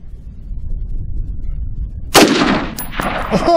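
A single sharp rifle shot from an ATI Alpha Maxx AR-15 cracks loudly outdoors after a quiet stretch, followed by a short ringing echo and a brief trailing impact.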